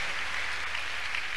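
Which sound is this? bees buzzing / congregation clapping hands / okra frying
congregation clapping hands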